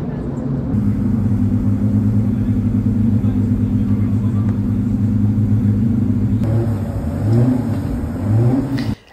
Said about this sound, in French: Ici le moteur d'une Ford GT40.